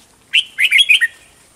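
Bird chirps at a rainy roadside trapping spot, a short cluster of four or five quick, bright tweets close by with no talk.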